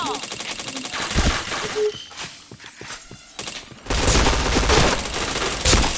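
Rapid automatic gunfire from a mobile shooter game in several loud bursts, with a sustained dense volley toward the end; a voice speaks briefly over it.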